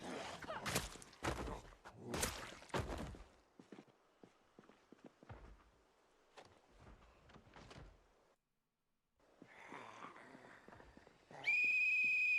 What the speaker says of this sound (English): Sorry if you hate the sound of the whistle, but this is our life now.